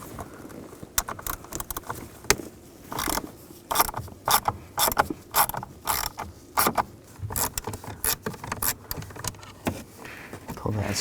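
A ratchet with a T30 socket works on the accelerator pedal screws of a 2014-2018 GMC Sierra 1500, giving quick, irregular clicking strokes up close with occasional faint talk.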